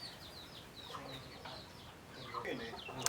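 Hens cluck on a chicken farm with young chicks, repeated soft clucks and chirpy calls scattered across a few seconds, fairly faint and close, with a brief sharp sound at the end.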